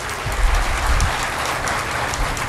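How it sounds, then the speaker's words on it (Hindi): Audience clapping at a motivational talk in Panipat, a dense, steady burst of applause from a large crowd that holds evenly throughout. "अपने लिए जोरदार ताली बजाइए।"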